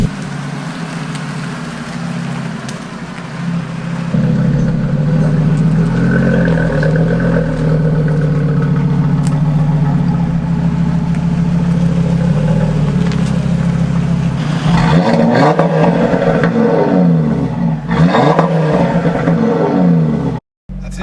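An Audi RS3 fitted with a Milltek non-resonated catback exhaust idles loudly and steadily up close, then revs hard with a rising roar near the end before cutting off abruptly.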